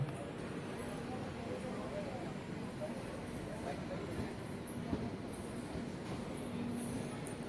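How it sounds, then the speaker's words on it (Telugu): Steady low rumble of the Antyodaya express train rolling out of Renigunta junction, a continuous moderate-loud drone with faint rhythmic clatter under background voices. "ఇంకా ట్రైన్ అయితే స్టార్ట్ అయిపోయింది రేణిగుంట జంక్షన్ నుండి."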